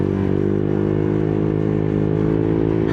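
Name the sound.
Honda Click 125 motorcycle engine while riding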